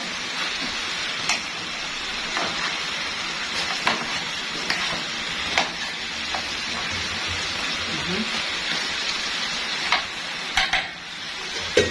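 Meat sizzles and fries in a pan as it is stirred, with a steady crackling hiss broken by occasional scraping clinks of the utensil, fairly quiet and close.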